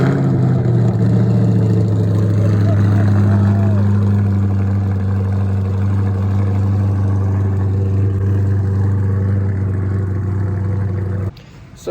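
A C8 Corvette engine idles steadily after starting, with a loud, close, even rumble that holds for several seconds and briefly dips just before the end.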